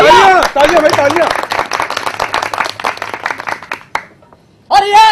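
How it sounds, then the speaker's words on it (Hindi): During a Hindi stage play, Chala Musaddi Hero Banne, an audience claps briefly and close amid a speaking voice, the clapping fading into near silence before speech resumes. "तालियां भाई तालियां।"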